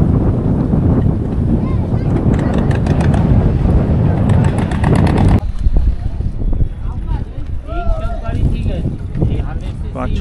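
Strong wind gusts across the riverside Gosaba ferry ghat in the Sundarbans, a loud, constant rumble buffeting the microphone over boat noise, with indistinct voices nearby.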